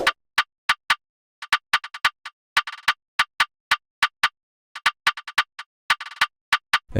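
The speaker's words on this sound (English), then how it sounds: "Yeah, the countersnare in this beat just plays this pattern." A drill beat's body countersnare plays a bouncy, syncopated pattern of sharp, bright snaps, some hits doubled or tripled in quick rolls, loud and dry with no other instruments or voices.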